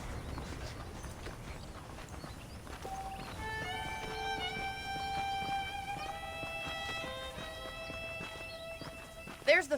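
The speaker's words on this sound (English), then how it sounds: "The horses are saddled up over here." Horse hooves clip-clop steadily in Red Dead Redemption on Nintendo Switch, a continuous walking rhythm beneath a swelling melodic game score, with a short loud knock right at the end.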